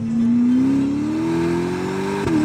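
A 2021 Ferrari Roma's engine pulls steadily while driving on the road, its tone climbing smoothly through one long rising note before a brief blip near the end, close and loud.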